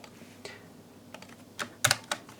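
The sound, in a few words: computer keyboard keys pressed in Excel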